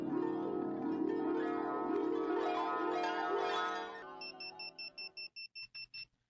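An alarm clock rings: a dense, loud jangling ring for about four seconds, then a string of evenly spaced high electronic beeps that stop abruptly.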